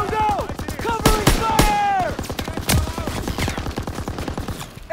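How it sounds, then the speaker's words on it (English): Rapid, continuous machine gun fire in the Call of Duty WWII video game, a dense rattling burst with battle noise, under loud shouted voices of soldiers. "Suppress that MG!"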